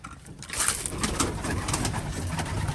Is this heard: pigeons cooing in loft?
yes